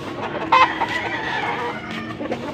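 A Hatch Grey gamecock rooster at a poultry auction in Angeles City, Pampanga clucks and gives a short crowing call up close, with a brief loud burst amid busy background noise.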